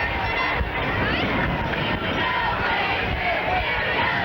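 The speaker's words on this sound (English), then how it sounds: "You can hear the crowd now starting to get into it." Spectators at a Weymouth versus Brockton football game roar as a loud, continuous mass of voices, a dense crowd din filling the stadium without pause.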